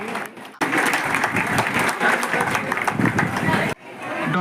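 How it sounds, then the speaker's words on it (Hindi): An audience at a Dhanka community gathering in Palam, New Delhi breaks into loud, dense applause for a student, sustained for about three seconds with crowd murmur mixed in, then cutting off abruptly. "एक बार जोरदार तालियां बजाएंगे।"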